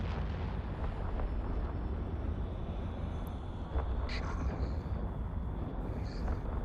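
Explosions in the space game EVE Online, with rockets striking a corvette, rumbling steadily as a continuous low roar with a few faint bursts layered over it.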